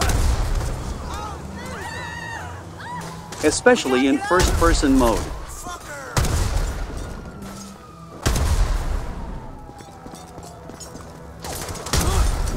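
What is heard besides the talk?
explosions from explosive melee attacks, GTA 5 video game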